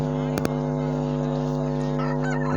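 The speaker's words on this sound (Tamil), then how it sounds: "சந்தையிலே வந்த மிகப்பெரிய சேவல் தான் டபுள் பாடி சேவல்" A large rooster at a market crowing loudly and steadily close by, over a constant droning background, with two sharp knocks early on.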